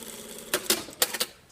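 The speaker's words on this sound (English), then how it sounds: "sewing the bind onto the sleeve" Sewing machine stitching binding onto a shirt sleeve, heard as a few short bursts of quick mechanical clatter separated by brief pauses.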